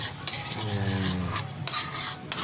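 Spoon scraping and stirring chicken curry with malunggay in a simmering pot, close and fairly quiet, with soft rubbing and a few light metallic clinks.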